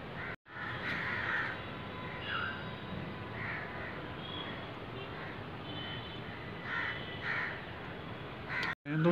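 Many crows caw over and over in a foggy winter street in Meerut, with overlapping calls spread across the whole stretch over a low, steady background hum.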